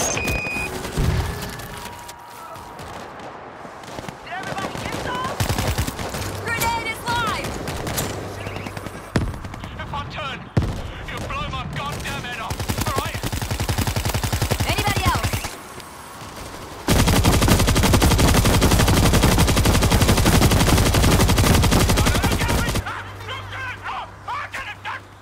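An auto turret fires rapid automatic bursts in the zombie shooter World War Z. The gunfire comes loud and dense, mixed with other game noise, and a long unbroken stretch of heavy firing runs near the end.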